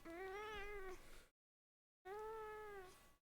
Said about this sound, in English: Does it count if Whiskers meows?